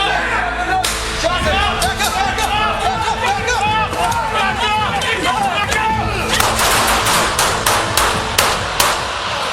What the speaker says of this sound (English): Gunfire answered in an instant.